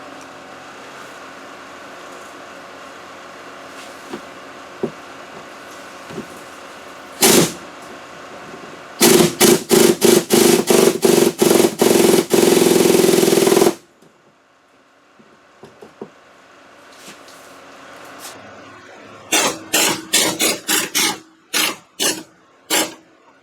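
Ratcheting tool tightening the steering shaft coupler bolts on a Ford F150, heard as bursts of rapid clicking: one short burst, then a long dense run, then several quick separate bursts, close and loud.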